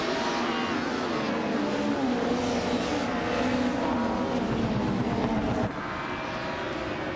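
Race car engines roar together at Mosport in a racing video game, a dense, continuous pack of high-revving cars, loud and close throughout.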